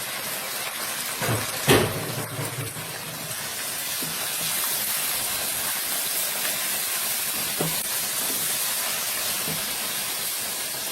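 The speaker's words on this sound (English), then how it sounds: "Now I'm adding the mutton and the tomato." Mutton and tomato go into a pot of lightly browned onions over high heat: a brief thump as they land, then a loud, steady hiss of sizzling that carries on to the end.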